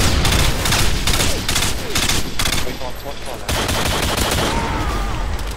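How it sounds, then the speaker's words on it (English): Rapid bursts of magnum gunfire in Call of Duty: Modern Warfare 2 multiplayer, shots fired through a wall, loud and continuous alongside game effects, with a little talk mixed in. "was wall banging with a magnum"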